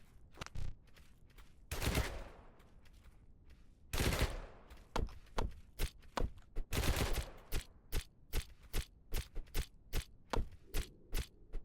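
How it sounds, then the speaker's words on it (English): Gunfire in the video game House Flipper: bursts of loud, sharp shots and rapid volleys, ending in a steady string of evenly spaced cracks. "Somebody's shooting at me?"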